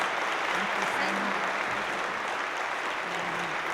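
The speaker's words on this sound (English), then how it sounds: "please give another round of applause for Sister Celine" Sustained applause from an audience at an International Women's Day gathering, full and continuous throughout, with faint voices murmuring underneath.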